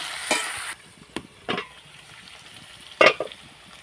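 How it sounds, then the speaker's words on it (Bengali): Young jackfruit pieces frying in oil for a pickle, with several loud stirring scrapes and splashy sizzle bursts over a quieter frying background, close by and with no voices. "এবার আমি এগুলোকে সিদ্ধ হওয়া পর্যন্ত ভাজতে থাকবো।"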